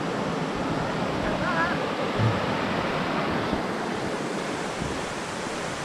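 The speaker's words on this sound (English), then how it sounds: "Looks like we've got to cross the creek." Flooded creek water rushing near Potoroo Falls: a steady, loud broadband roar of fast water that holds constant without breaks, with faint voices under it.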